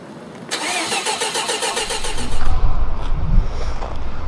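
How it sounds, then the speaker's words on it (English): A Mazda RX-7 rotary engine that sat for 23 years cranks with a rapid rhythmic starter whir, then catches and runs with a loud, rough, rumbling idle close by. "Today we're going to try to start my Mazda Rx-7 for the first time in 23 years"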